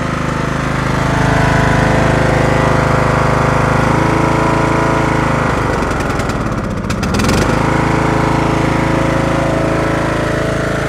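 A Poulan riding lawn mower with an oil leak runs loud and close, its engine droning steadily throughout with a brief rough dip in the middle before settling back to an even roar.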